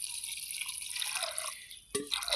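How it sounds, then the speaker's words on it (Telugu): Water poured into a cooking pot over soaked corn kernels, a steady splashing trickle heard close and alone for a couple of seconds, with a brief clunk near the end. "సరిపడాని నీళ్ళు పోసుకోవాలి."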